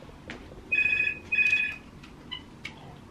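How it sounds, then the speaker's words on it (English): Telephone in a busy sewing studio rings twice in short electronic trills, fairly loud and close against a quiet room, followed by faint small clicks. "And there goes the phone."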